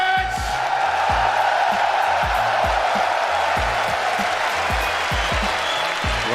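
A London arena crowd at the CS:GO FACEIT Major grand final between Navi and Astralis roars and applauds continuously, loud and sustained, with rhythmic low thumps beneath the noise.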